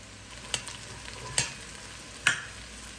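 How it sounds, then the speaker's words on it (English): Carrots and parsnips fry in butter and oil in a pan, a constant soft sizzle broken by three sharp stirring clinks or scrapes about a second apart, close and without talk. "Now we're going to let the carrots and the parsnips cook about 8 or 10 minutes."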